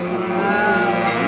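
Motorbike traffic running along a roadside, a steady close engine drone with harmonic whine, continuous and unbroken through a very short stretch.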